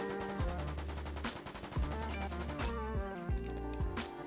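M4A1 assault rifle fire in the Roblox game Jailbird Remastered: rapid automatic bursts, a fast steady rattle of shots broken by brief pauses between several bursts, loud and close with no speech.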